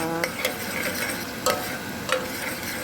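Onions frying in a pan for a green bean dish, a soft continuous sizzle broken by a few sharp stirring clicks and taps at irregular intervals, close up with no talk.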